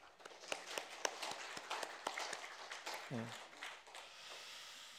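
Applause from a church congregation at a Sunday service, scattered claps that thin out as a voice begins speaking over them near the end.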